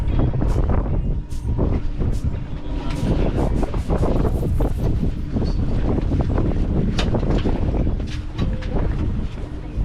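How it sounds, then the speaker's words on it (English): A steady, loud boat engine drone mixed with rushing wind and water noise as the boat heads out off Antigua, continuous for the whole stretch, with faint voices underneath. "So right now we have boarded the boat and we're going to start heading out."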